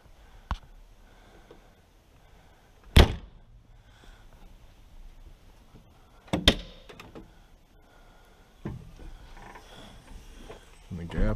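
A few sharp clunks and latches sound from a Case 580SK backhoe cab door being worked open and shut, separated by quiet pauses.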